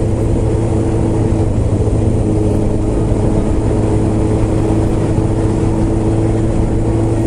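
Steady, loud car engine and road drone from inside a car driving the Izu Skyline mountain road between Atami Pass and Kameishi Pass, constant throughout with no talk.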